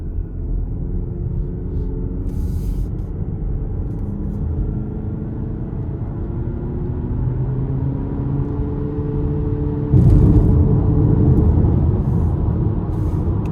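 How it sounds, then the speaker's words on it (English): A 2026 Jeep Cherokee Laredo with a turbo engine and electric motors accelerates hard from inside the cabin, a steady low engine drone building and swelling louder near the end. "Now, when that turbo kicks in, you can feel the pull."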